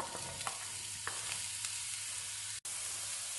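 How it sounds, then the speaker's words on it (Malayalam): Sliced onion frying in hot coconut oil in a pan, giving a steady close sizzle with a few brief stirring clicks and no talk. "ചൂടായ പാനിലേക്ക് കുറച്ച് കോക്കനട്ട് ഓയിൽ ഒഴിച്ചു കൊടുത്തിട്ടുണ്ട്. ഇതിലേക്ക് കട്ട് ചെയ്ത ഒരു സവാള ഇട്ടു കൊടുക്കുക."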